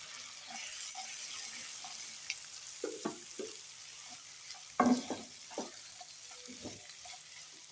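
Chicken paste, chopped onion, chili and peas frying in a pan, giving a faint, steady sizzle broken by a few soft scrapes and knocks from stirring.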